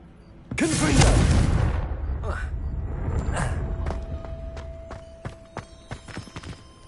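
Confringo fire spell blasting in Hogwarts Legacy, a loud broadband burst with a booming low rumble that trails into crackling debris and scattered sharp clicks, over a game background.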